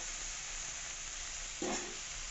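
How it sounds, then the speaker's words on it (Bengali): Potatoes frying in a pan for a homestyle drumstick-and-poppy-seed dish: a faint, even sizzling hiss throughout, with one short louder scrape or stir near the end. "আলুটা একটু ভাজা না হলে কাঁচা আলুটা ভালো লাগবে না"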